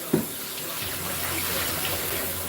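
Sea moss being rinsed under a running tap, a steady close stream of water splashing into a sink after a brief knock at the start.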